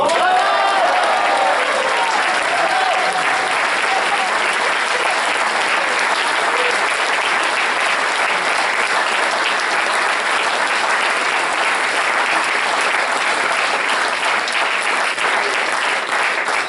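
A large audience at a French event claps in loud, sustained applause that runs steadily for the whole stretch, dense and unbroken with no voices rising above it.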